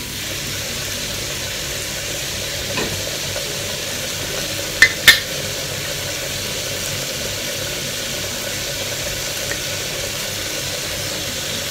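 Chili powder gets stirred into cooked tomatoes frying in a pan: a low, even sizzle and hiss runs throughout, punctuated by two sharp spoon clicks near the middle.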